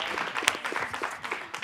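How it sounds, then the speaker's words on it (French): Studio audience of a French talk show applauds two guests, a short burst of moderate clapping with faint voices mixed in. "Merci de les applaudir."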